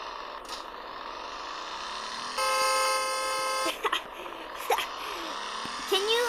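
A sustained car horn blares for over a second in the game Car Dealership Tycoon, followed by a few short honks amid background game noise.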